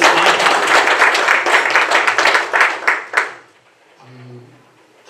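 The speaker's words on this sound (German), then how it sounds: "Applaus an die Hedwig." Audience applause for Hedwig at a beekeeping and farming dialogue workshop: a dense burst of many hands clapping for about three seconds, then tapering off into a quiet room where a voice briefly speaks.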